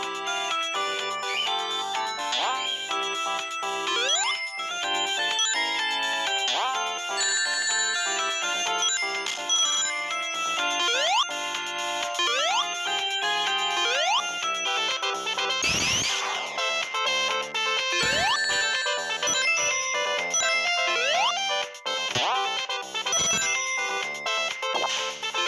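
Sonic the Hedgehog (1991) video game soundtrack: bright, bouncy synthesized chiptune melody with bell-like lead notes, steady bass and percussion, with quick upward sweeps, playing continuously and loudly.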